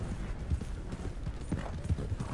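Horse hooves clip-clop at an irregular trot in a video game, soft thuds over a low background rumble.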